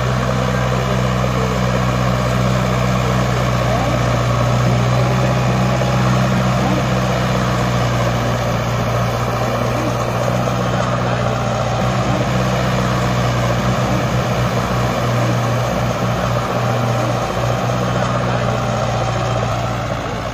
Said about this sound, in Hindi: टाइट जमीन है तो ट्रैक्टर और कुछ जवाब देगा चलने में, बिल्कुल स्लिप काट के चल रहा है